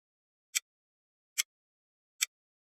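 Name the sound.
clock ticking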